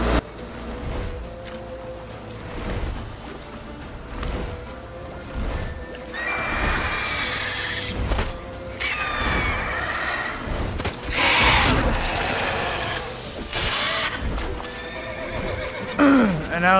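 A horse in The Witcher 3 whinnies loudly several times over steady clip-clop hoofbeats while galloping, with shrill neighs rising above the rhythmic hooves and a busy game soundscape.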